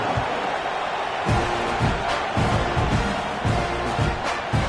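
A stadium crowd at a college football game, Oregon at Texas A&M, gives off a steady, subdued roar and murmur that swells slightly in waves, continuous throughout with no clear voices standing out.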